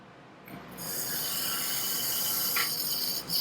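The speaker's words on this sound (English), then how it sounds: "We'll flush this thing again and see if we still have a water leak." A toilet being flushed after its bolts and gasket ring were replaced, a sudden close rush of water that builds into a steady loud roar with hissing, no talk.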